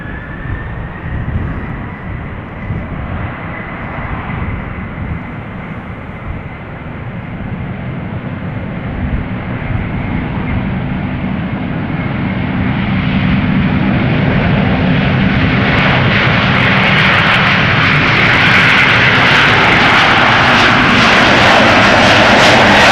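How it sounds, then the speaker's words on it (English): A Delta Airlines Airbus jet departing Amsterdam Schiphol gives a long, steadily building roar, rising from a distant rumble to a loud, broad engine blast near the end of its takeoff run, with no voices. "Delta Airlines Flight 143, Airbus A380-300 going to Seattle,"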